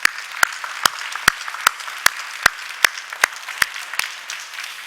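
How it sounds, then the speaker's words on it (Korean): A church congregation claps during a sermon in steady, evenly spaced loud claps, roughly two or three per second, with a soft murmur of the room between them. "그 일을 위하여 십자가를 지신 분께 한번 감사와 사랑의 박수를 보내드리고 싶습니다."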